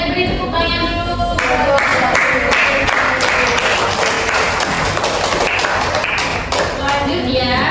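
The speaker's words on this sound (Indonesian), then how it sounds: "Oke, beri tepuk tangan dulu." Classroom group clapping during a music-education learning session, loud and dense applause filling the room with voices mixed in throughout.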